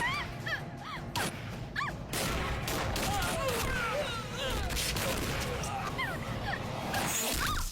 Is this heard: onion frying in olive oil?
no